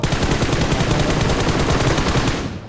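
Rapid gunfire from the battle royale game BGMI rattles on nonstop, dense and loud, with no break for almost three seconds before it cuts off abruptly.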